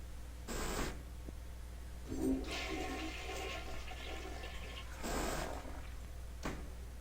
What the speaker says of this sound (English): flush 3 times